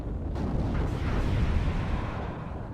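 Heavy rumbling fire from units in the real-time strategy game WARNO rolls on steadily, booming and distant-sounding, like sustained artillery or cannon fire with no clear gaps between blasts.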